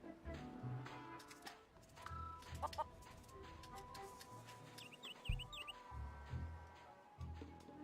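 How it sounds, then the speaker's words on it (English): Feral chicken on Plunder Island in the video game Curse of Monkey Island, a series of faint, soft clucks and squawks heard over game music with some chiming sounds. "Plunder Island feral chicken, one of Plunder Island's most common fauna"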